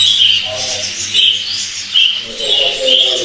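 Small caged birds at a bird keeper's home chirp loudly and close up, repeated bright bursts of twittering.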